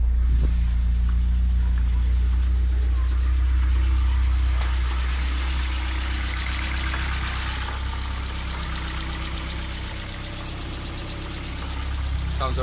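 A car engine idles steadily after a valve stem seal swap, with a low continuous rumble and faint mechanical ticking and no speech, heard fairly close.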